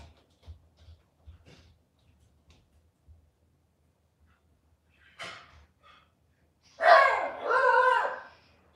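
A dog barks inside a home, first with a single distinct woof and then with two loud, close barks near the end. Faint thumps and quiet room noise come before them.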